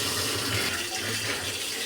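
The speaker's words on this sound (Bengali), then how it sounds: "জলটা ঝরানো হবে।" Hot water from boiled pasta being drained away in a kitchen, a steady close rushing pour with no voices over it.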